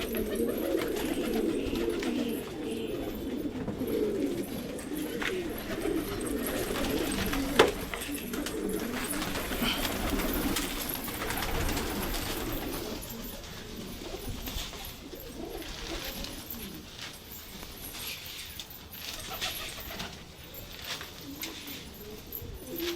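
Pigeons cooing while pecking grain, soft repeated low coos from several birds nearby with light scratchy pecking and faint background noise.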